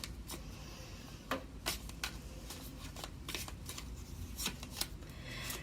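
Soft, rapid riffling and slapping of tarot cards being shuffled, repeated in quick bursts against a faint steady background.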